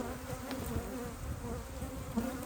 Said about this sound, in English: They look like there's a lot of bees on these frames